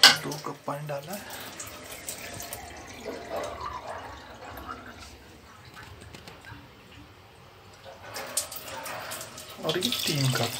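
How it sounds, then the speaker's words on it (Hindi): Water is poured into a pot of mutton latpat, a continuous splashing and gurgling that swells at the start and end, with someone talking over it. "दो कप पानी डाला है"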